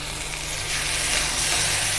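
Tomatoes hitting hot frying onions in a pan for sesame chutney give a steady, close sizzle that swells louder partway through and holds, a dense frying hiss with no voices.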